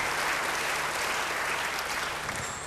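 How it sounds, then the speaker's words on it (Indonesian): A church congregation claps together in a brief, full burst of applause lasting a few seconds, steady and close, with no voices over it. "Beri tepuk tangan yang baik bagi Dia."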